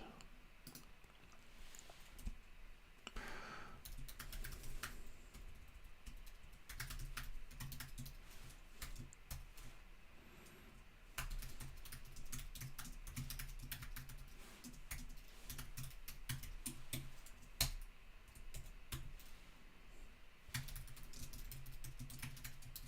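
Close computer keyboard typing while writing a query, bursts of quick light keystrokes with short pauses, fairly faint over a steady background hum.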